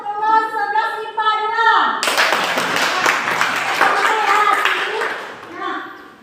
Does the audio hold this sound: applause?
yes